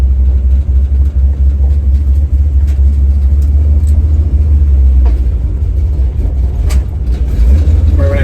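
A 1970 Chevy Nova with a Demon carburetor and electric choke idles after a cold start, a loud, close, low rumbling engine running steadily without talk.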